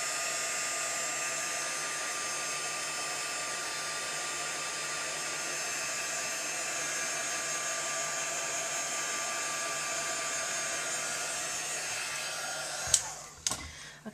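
Heat tool blowing over craft paint to heat-set it, a steady close whooshing fan drone that runs unbroken for a long stretch, then cuts off with a couple of clicks.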